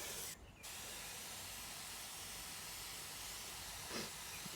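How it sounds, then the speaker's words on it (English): A garden sprayer gives a soft, steady hiss of fine spray, heard faintly and continuously with a brief pause near the start and a slight swell toward the end. "You might notice I've got a new sprayer."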